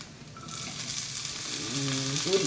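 Chopped garlic and ginger fry in a pan for a pumpkin soup, giving a steady, close, hissing sizzle that swells slightly and carries a faint tonal ring near the end.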